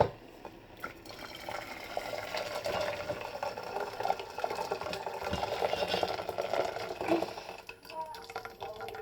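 Hot water poured from a kettle into a small pot, a trickling, bubbling fill that runs steadily for several seconds, fairly quiet and close.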